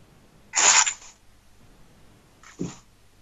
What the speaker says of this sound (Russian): Главное, чтобы у меня собаки не услышали этого мяуканья